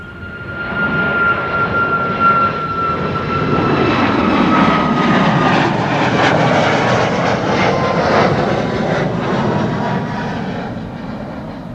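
A WestJet airliner's jet engines roar at Schiphol, a loud, sustained rumble that swells to a peak midway and then eases slightly.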